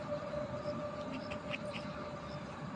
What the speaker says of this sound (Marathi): इथे बघा त्या ट्रेनमधली आवाज इकडे पण येत आहे